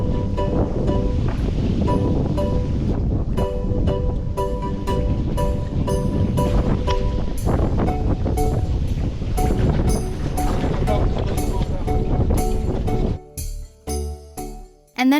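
Loud gusting wind buffets the microphone over rushing waves and churning water aboard a sailboat off the Florida coast near Miami, a constant roar that breaks up near the end.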